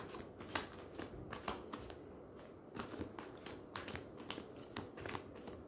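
Tarot cards being shuffled, soft repeated riffling and flicking in quick uneven bursts, close and quiet with no voice over them.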